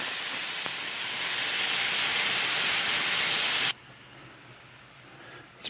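Marsala sauce hits a hot pan of chicken and crisp caramelized bacon, giving off a loud, steady sizzling hiss for several seconds before it cuts off suddenly. After that only a faint, low background remains.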